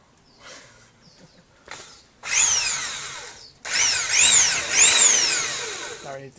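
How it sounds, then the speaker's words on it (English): An old electric drill with no speed control runs at high speed in loud bursts, whining with rising and falling pitch, after a few quieter knocks and handling sounds. "this drill might be a little bit too fast"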